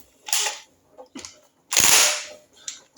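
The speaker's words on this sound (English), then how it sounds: "I can't tell you how good it is having a Mega Blaster like this, you know, an cordless impact driver." A cordless impact driver with a thin socket loosens bolts at the stator of a Norvil Commando motorcycle starter, giving three or four sharp, loud rattling bursts separated by short pauses, with no talk.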